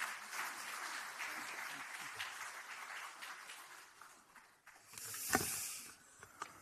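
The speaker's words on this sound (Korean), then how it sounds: "조종식 사무총장님께 좀 박수 보내주시기 바라겠습니다" Faint applause from a crowd at a national meeting of Democratic Party regional chairs, a thin patter fading over several seconds before a brief burst of hissy noise near the end.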